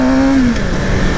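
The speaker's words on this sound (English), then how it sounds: "Man, that first gear pull is unreal." A 2018 Suzuki GSX-R750 pulling hard in first gear, engine note loud and close, a rising tone that drops as the revs fall, with steady wind and road roar underneath.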